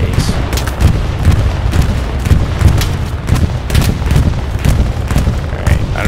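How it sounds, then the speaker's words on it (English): Repeated booming blasts and gunfire from the World War II shooter game Hell Let Loose, including a tank rocket explosion, rumble through a dense, continuous battlefield din with sharp impacts at irregular intervals. "I just got shot directly by a rocket from the tank. I saw the explosion in my face."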